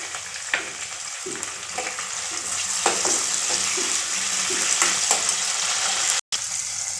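Tomatoes go into a pan of onion and green chili frying until reddish, producing a loud, continuous sizzle with soft stirring scrapes and a brief cut-out near the end; no one speaks.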